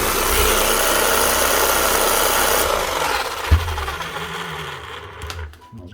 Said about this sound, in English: Right, we've got a Makita hammer.